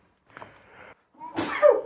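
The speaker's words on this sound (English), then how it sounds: "Is the second sneeze coming?" A single sharp sneeze bursts out close to the microphone after a brief intake of breath, loud and abrupt.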